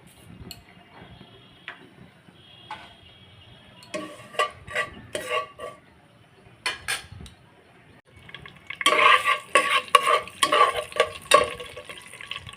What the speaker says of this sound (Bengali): মশলাটা ভালোভাবে ভেজে